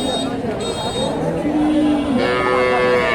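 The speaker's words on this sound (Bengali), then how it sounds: "এই যে গাভীটা দেখেন" A dairy cow moos once, long and drawn out, amid crowd chatter and background noise at the Dhaper Hat cattle market in Bogura.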